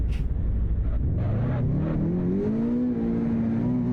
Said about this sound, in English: That sounds like my car.